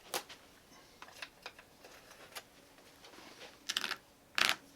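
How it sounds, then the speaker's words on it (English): A blunt knife cutting through the stitching and piping of a traditional car headliner panel pinned to a bench: sparse close ticks and small snaps, with two louder tearing bursts near the end, no talk. "and just cut through the stitching."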